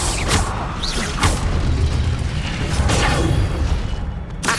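The Incendio fire spell is cast in Hogwarts Legacy, bringing loud whooshing bursts and booms that roll through several seconds of dense magical combat noise, with no talk over them.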